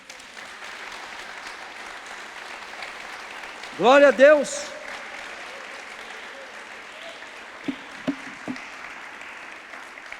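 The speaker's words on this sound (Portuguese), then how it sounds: "Salva de palmas para Jesus." A church congregation keeps up a steady round of applause, with a voice calling out loudly over the clapping, then brief talk near the end.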